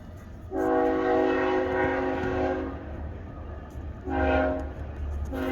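A train sounds its horn in long, loud harmonic blasts, a sustained one then a shorter second blast, over a steady low rumble of the train rolling by nearby.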